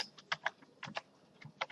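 Someone types on a computer keyboard while entering values into a MySQL database table, producing a quiet, close, irregular patter of individual keystrokes with short pauses between them and no talking.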